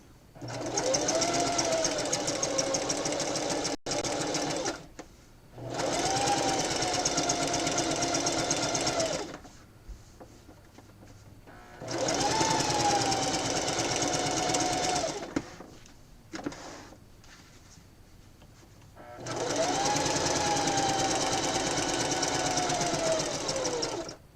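Sewing machine quilting fabric up to a border, running in four sustained bursts of fast, even mechanical stitching with brief quiet pauses between runs.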